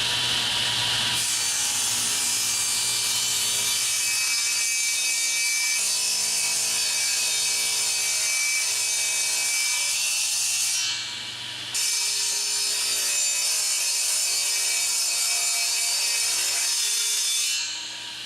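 Wood being ripped on a table saw against the fence, two boards fed through together while building a dining room table; a steady, loud sawing whine runs nearly throughout with two brief dips, no talk.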